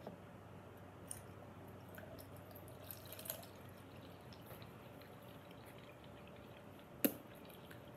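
Water dripping slowly out of a tube in a porosity and permeability demonstration, a few faint, sparse drips over a quiet hiss, with one louder drop near the end.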